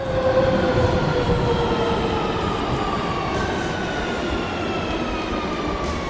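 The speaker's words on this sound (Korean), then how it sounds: "오늘도 완벽하고 안전하게 운행했습니다 열차 정거합니다" A train rumbles steadily while high, squealing tones slowly glide downward as it slows, a constant, fairly loud mechanical roar throughout.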